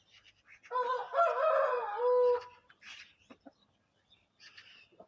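A seven-month-old rooster gives a short, hoarse crow followed by a few scattered clucks, fairly close and otherwise quiet.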